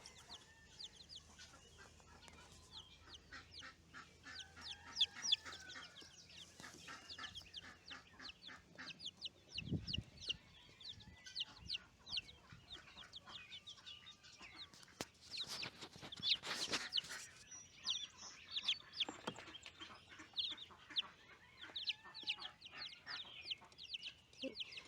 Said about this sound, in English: These are my Buff Brahma chicks, and they're a little bit older.